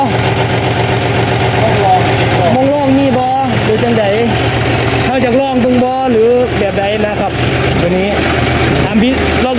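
A John Deere 5040D tractor engine runs loud and close, its steady diesel rumble rising and wavering in pitch as it is revved, with people talking over it.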